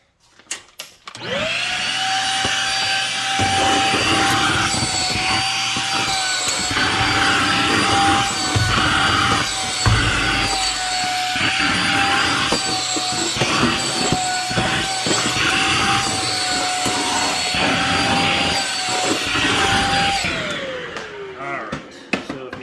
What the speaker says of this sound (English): Let me vacuum up some of this dust first.